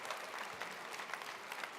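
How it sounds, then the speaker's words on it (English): Applause from an audience at a creativity tour event in London, a steady dense clatter of clapping at a fairly faint, distant level with no voices over it. "let's have a round of applause"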